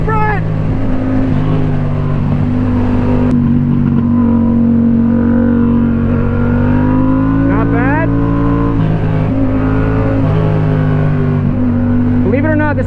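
A motorcycle ridden hard on a back road, its engine loud and close with a continuous throaty drone, rising whines as it revs through gears, and heavy wind rush throughout.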